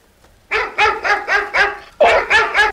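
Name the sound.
Great Dane dog barking on its chain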